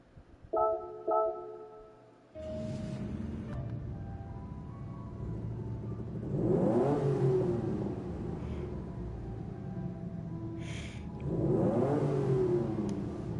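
A car engine revs in the Gran Turismo 7 racing game on the Grand Valley track, rising and falling in two strong accelerating sweeps after a short tonal intro, with no talk.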